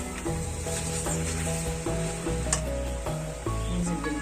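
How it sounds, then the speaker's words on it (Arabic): Onions and peppers sautéing in ghee, a continuous close sizzle and hiss with scattered pops and scraping stirs, no talk. "شوحناها شويه مع السمنه، وهننزل بالبصل والفلفل."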